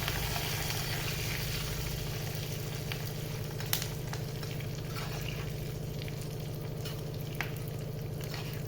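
Curry leaves frying in ghee for a barnyard millet pongal, a continuous close crackling sizzle with a low steady hum underneath and a few sharp pops scattered through.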